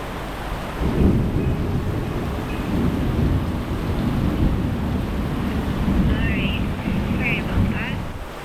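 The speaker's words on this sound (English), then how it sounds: "Definitely a little tropical storm blowing through right now." A tropical storm sweeps over Key Largo, Florida, with steady roaring wind and heavy rain, low rumbles of thunder, and a few faint chirps near the end, all continuous and loud.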